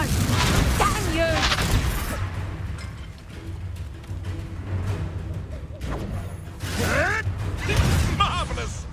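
A Confringo explosive spell in the Hogwarts Legacy video game, booming blasts with whooshing bursts at the start and again near the end, amid game combat noise and character voices.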